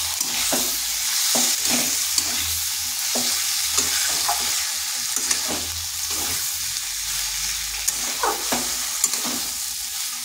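Fried lentil dumplings (bori) stirred in a pan, a steady soft sizzle broken by repeated scraping and clinking strokes of the spoon, close and alone with no voices.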